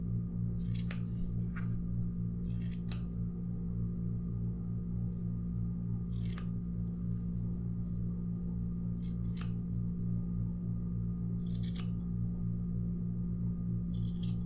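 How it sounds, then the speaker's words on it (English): Scissors trim cotton pieces for a handmade gnome, giving about eight crisp, quiet snips in an irregular rhythm over a steady low background hum, with no talking. "go ahead and trim these pieces to be the length that you want to stick up"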